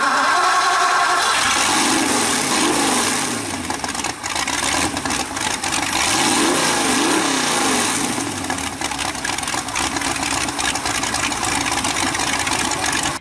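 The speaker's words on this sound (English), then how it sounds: "he also has a sand car with a V8 engine" A V8-engined sand car runs on sand dunes, its engine droning loud and steady throughout with rising and falling rev sweeps and constant rough mechanical noise, no voices.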